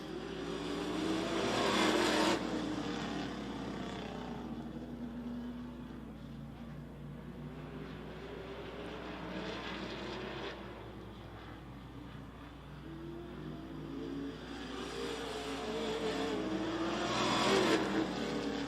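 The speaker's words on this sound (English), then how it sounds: "Speed Tour Modifieds, here they come" Speed Tour Modified race cars on an oval track roar past in waves, with engine noise swelling and fading three times. The cars sound moderately distant, and a steady crowd and ambient wash sits underneath.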